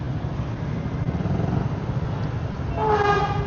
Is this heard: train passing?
yes